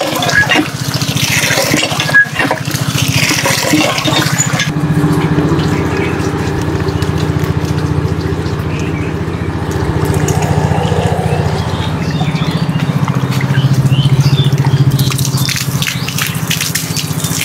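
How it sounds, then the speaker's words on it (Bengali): Water gushes steadily into the pipe of a tube well pump during a repair, a loud, continuous close pour with no voices. "পাইপটায় আবার একটু পানি দিয়ে নিব, নেওয়ার পরে আমরা দেখবো যে আসলে পানি ওঠে কিনা।"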